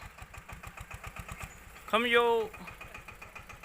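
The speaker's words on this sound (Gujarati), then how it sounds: "મિત્રો આપણે બંને ટ્રેક્ટરમાં 1500 આરપીએમ રખાવ્યા છે અને ચોથો ગેર લગાવી દીધો છે." Two tractors, a Massey 5118 and a Steeltrac 15 hp, run side by side at 1500 rpm in fourth gear, giving a steady rapid diesel chug close by, briefly cut across by a short shout.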